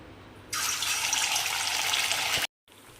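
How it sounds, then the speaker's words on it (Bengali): Chhana (paneer) balls fry in hot white oil, a bright, steady sizzling hiss that starts suddenly and holds loud and close before cutting off abruptly. "এইরকম সুন্দরভাবে আমি ছানার বলগুলো বানিয়ে এতে দিয়ে দিলাম ভাজতে।"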